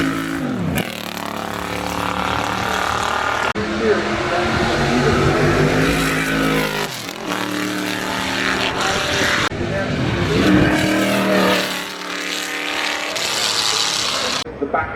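A NASCAR race car runs up the Goodwood hill at the Festival of Speed, loud engine roars rising and cutting out in repeated bursts as gears change, with a commentator talking over the noise.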